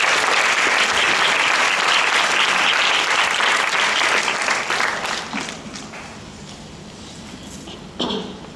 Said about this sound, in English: a round of applause for our presenters